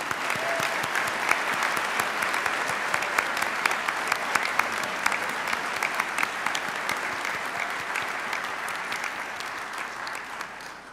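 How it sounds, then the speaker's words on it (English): Sustained audience applause at an honors convocation ceremony, dense and steady clapping from a large crowd filling the whole stretch at even loudness before tapering slightly at the end. "Let's give them another round of applause."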